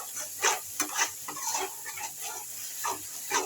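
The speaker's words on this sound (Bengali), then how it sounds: "মশলা আমার ভালো করে কষানো হয়ে গেছে, মশলা থেকে তেল ছেড়ে দিয়েছে" Spice paste frying in oil is stirred in a pan, giving soft sizzling with a series of scraping strokes in an irregular rhythm, close and fairly quiet, with no talk.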